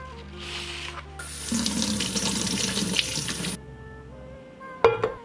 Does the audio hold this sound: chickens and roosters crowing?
no